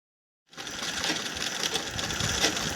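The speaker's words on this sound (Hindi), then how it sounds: "इस तरह से सिलाई लगा देनी है।" A sewing machine starts after a brief silence and runs continuously, stitching silky blouse fabric with a close, steady mechanical whir and no voices.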